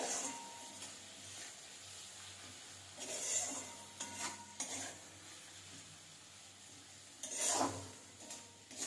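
Spices and onions for kadai chicken are stirred in a pan with a soft, faint sizzle and scraping, rising in two brief bursts of louder stirring.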